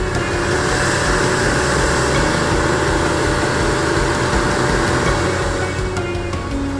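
A CNC milling machine cuts P20 steel with a Multicut XF end mill, the spindle turning at 4,991 RPM at a 38.4 inches per minute feed. It makes a loud, steady, unbroken machining roar with a constant tone throughout.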